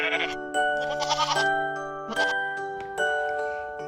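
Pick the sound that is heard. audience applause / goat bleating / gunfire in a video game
goat bleating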